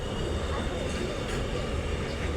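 A train passes by near a rural crossing with a rumbling, clattering roar that stays constant throughout, and faint voices sit underneath.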